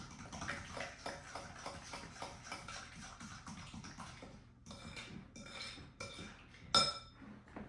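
Coffee cake batter stirred in a bowl, a rhythmic series of spoon scrapes and soft knocks against the bowl, ending with a brief sharp clink, close and alone.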